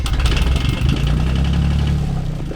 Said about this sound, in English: Good thing I decided to crank the engine before people start driving down here.